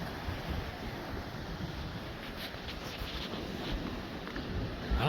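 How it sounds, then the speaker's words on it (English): Ocean surf rolling onto a beach by a pier at night, a steady broadband wash with wind noise on the microphone, continuous and fairly close, with no talking. "Ocean."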